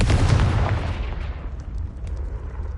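A Confringo spell blast in the video game Hogwarts Legacy, a loud fiery explosion that rumbles and then fades into a decaying roar with faint crackles.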